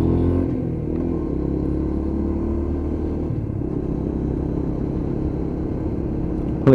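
A Lexmoto LXR 125 motorcycle with a fresh front tyre and new brake pads pulls away and runs up through the gears. Its engine gives a steady, close, low drone, with a brief dip around a gear change, and nobody talks.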